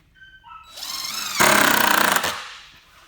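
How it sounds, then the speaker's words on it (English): A power drill rises in pitch and then drives a screw into a wooden headboard with a loud, rapid grinding rattle, close up and alone, before spinning down. "And you want to drill one side in,"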